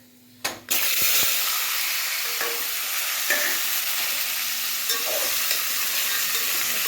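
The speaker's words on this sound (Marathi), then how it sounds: "हा भाज्या सगळ्या मी तेलात छान परतणार आहे" Mixed vegetables sautéing in hot oil with curry leaves and asafoetida in a home kitchen, a steady close sizzle after a sudden burst as they hit the pan, with occasional light stirring clinks.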